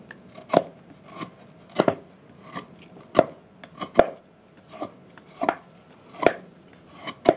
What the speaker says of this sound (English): I like to keep folders for cutting, not for hacking into things like this.